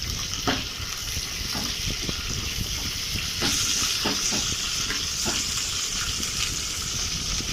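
Curry leaves frying in hot oil for a flattened-rice mixture, a dense continuous hiss and crackle with several louder spitting pops scattered through, steady and close.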